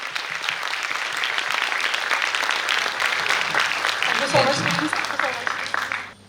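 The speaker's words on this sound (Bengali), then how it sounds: "হাততালি দেবে।" A seminar audience in a hall gives loud, sustained applause for the director, many hands clapping evenly before the sound cuts off, with a few voices mixed in.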